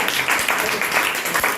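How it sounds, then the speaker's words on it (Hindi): Group applause in a classroom as students clap together, a dense burst of hand claps lasting a moment at moderate loudness. "एक बार ताली बजा दो"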